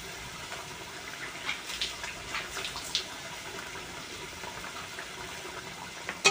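Water pours into a pan of mustard masala cooking for a fish curry, a soft continuous splashing and sizzling wash with small bursts, faint and steady throughout.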